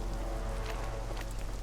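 Steady rain falls in The Witcher video game, a dense continuous patter of drops on surfaces with faint scattered splashes, heard alone without speech.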